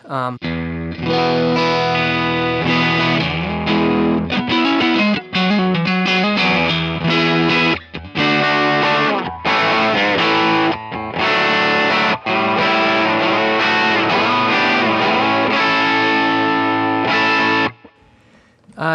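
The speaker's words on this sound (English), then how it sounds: "So this is a Fender Deluxe Reverb, and I've got it set up pretty hot." A heavily overdriven electric guitar plays loud riffs and sustained chords through a Fender Deluxe Reverb tube amp set up hot, with choppy stops between phrases before ringing out.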